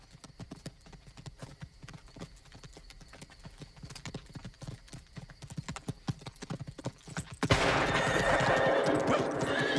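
Horses in a 1999 Western film neighing and whinnying while their hooves clip-clop in an uneven rhythm, getting busier and louder until a sudden wash of broader noise in the last couple of seconds.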